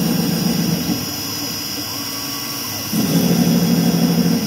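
Langmuir MR-1 CNC mill thread milling with flood coolant on, a steady whirring spindle hum with a hissing coolant wash that dips briefly mid-clip and then returns, fairly close.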